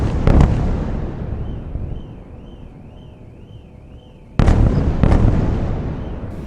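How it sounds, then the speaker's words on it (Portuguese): Israeli airstrikes on Gaza send loud explosions booming through the city, with a sharp blast at the start and another a few seconds later, each rolling off into rumble, a thin wavering siren-like tone between. "o som de explosões era alto na cidade"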